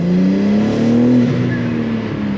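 Loud modified exhaust on a BMW G80 M3 droning steadily as the engine pulls and shifts, a strong continuous tone rising in pitch, close and alone with no voices.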